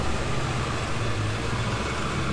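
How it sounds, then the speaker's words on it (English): A loud diesel vehicle drives past, a steady broadband engine rumble and road roar held evenly across the clip, with no voices. "loud diesel going by."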